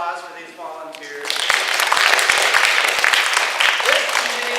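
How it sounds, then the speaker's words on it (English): Speech at the start gives way to a burst of crowd applause at an elementary school, steady and fairly loud, with many hands clapping together for several seconds. "Round of applause for these volunteers."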